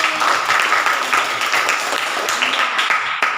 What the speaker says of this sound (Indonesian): Iya, tepuk tangan dulu buat ini.